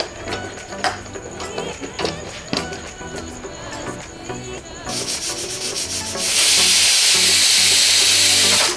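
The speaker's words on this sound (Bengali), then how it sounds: "ঢাকনা দিয়ে এঁচোড়টাকে মিডিয়াম আছে ঠিক 4টে সিটি হওয়া অবধি সেদ্ধ করব।" A pressure cooker boiling jackfruit over medium heat vents a loud, rushing hiss of steam that swells near the end and holds steady, following a quieter stretch with background music and light clatter.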